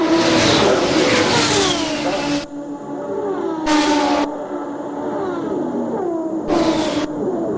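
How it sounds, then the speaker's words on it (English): IndyCar race cars roar through a race at Indianapolis in 1993, loud high-pitched engines with sweeping Doppler pitch changes as cars pass, broken by abrupt audio cuts. "Both the Newman-Haas cars running very strong throughout the whole race"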